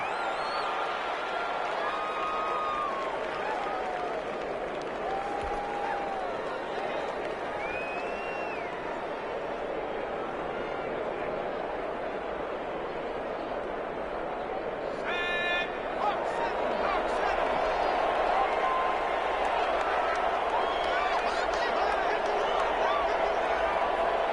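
Stadium crowd noise in a PS4 American football game as the Rams take a knee in victory formation and head to the Super Bowl: a steady, dense roar of cheering and clapping that swells slightly near the end, with commentary over it.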